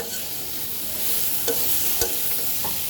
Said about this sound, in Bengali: কম আঁচে আমি এটাকে কয়েক মিনিট ভাজা ভাজা করব